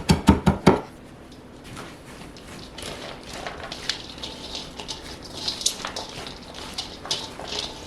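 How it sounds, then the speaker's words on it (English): A knife rough-chops Italian parsley on a cutting board for coleslaw, opening with a quick burst of four sharp chops, then continuing as lighter, scattered tapping and rustling taps at a moderate close distance. "some Italian parsley, which we're going to rough chop, not too fine of a chop on this"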